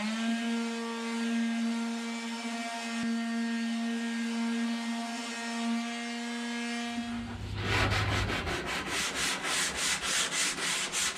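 Walnut burl RV table getting a finish sanding pass, a steady whining tool hum followed by a pulsing rough scrubbing of sandpaper on wood, close and continuous.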